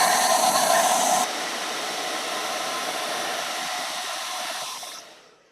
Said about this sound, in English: I'm going to blow dry it just for a couple seconds here